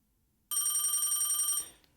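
A telephone bell rings in the video game Dreambound, a sharp rapid metallic trill that starts abruptly, rattles on steadily for about a second, then cuts off, heard alone in near silence.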